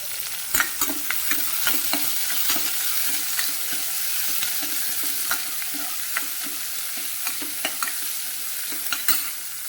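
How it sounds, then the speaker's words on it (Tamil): Small shallots sauté in a hot pan, a continuous sizzle broken by regular sharp scrapes and clacks of a spoon stirring them, close and fairly loud with no talking. "வெங்காயம் சேர்த்து ஒரு 2 நிமிஷம் நல்லா வதக்கிக்கலாம்."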